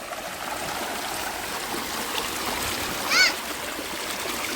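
Water runs steadily through a small channel between stones in a Konkan stream, a constant close rushing trickle, with a brief high chirp partway through.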